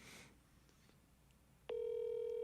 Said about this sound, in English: You can hear it ringing, right?